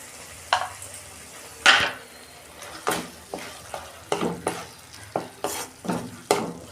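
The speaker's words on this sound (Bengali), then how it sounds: "এবার আমি মশলাটাকে কষাবো ভালো করে যতক্ষণ না তেল ছাড়ে।" Spice paste with cumin, coriander and green chilli being fried and stirred for a cauliflower, potato and eggplant curry, with repeated close spatula scrapes and clinks against the pan over a low sizzle, irregular and loud, no speech.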